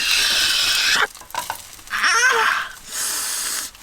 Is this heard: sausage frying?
yes